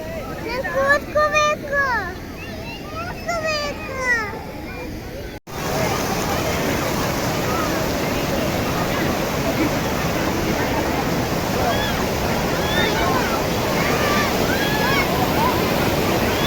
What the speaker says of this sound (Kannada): Beautiful falls, Balamuri falls.